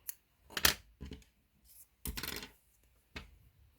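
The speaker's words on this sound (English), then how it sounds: "Then you're going to cut your yarn" Scissors snipping through yarn while making a pacifier clip, a few quiet, separate crisp cuts close by, with short pauses between them and no talk.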